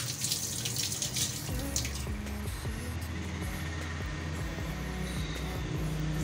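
Fresh water runs from a tap in a small one-bedroom house, a steady close splashing stream that continues throughout with no talk.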